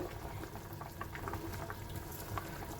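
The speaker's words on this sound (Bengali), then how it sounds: "জলটা আমার ফুটে এসেছে" Water boiling in a pan on the stove while fish curry is being cooked, a soft, steady bubbling and simmering hiss, close but fairly quiet, with faint intermittent clinks.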